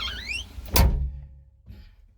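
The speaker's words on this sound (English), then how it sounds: "So I'm going to shut the door." A Bobcat cab door swings shut with a single solid thunk near the middle, preceded by a brief squealing whine and followed by a faint rattle, close and alone.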